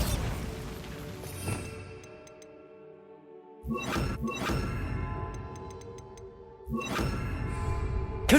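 Bombarda blasting spell cast in Hogwarts Legacy: a loud impact at about 1.5 seconds, then heavy crashing bursts near 3.7 and 6.8 seconds, each ringing out over a dense, noisy game soundscape with metallic tinkles.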